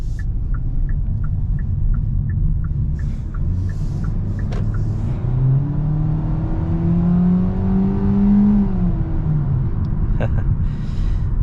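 A 2023 Hyundai Kona with a 2.0 naturally aspirated engine accelerates, its engine note rising steadily in pitch from inside the cabin. Soft ticking clicks sound over a steady low road rumble.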